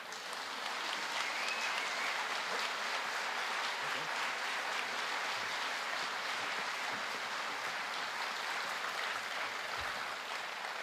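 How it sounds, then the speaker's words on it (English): A conservative conference audience gives a steady, dense round of applause as panel guests are brought onstage, with the clapping holding at an even level for about eleven seconds. "Give them a round of applause"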